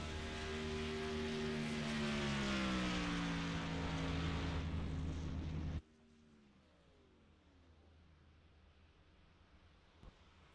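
A race truck on a qualifying lap at Pocono Raceway roars past close by, its engine pitch sliding downward, then drops sharply to a distant, fainter engine note under wind.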